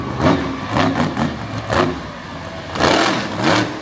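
A midget race car engine roars and surges on a dirt track, rising and falling in repeated revving bursts as the car slides and accelerates, loud and fairly close throughout.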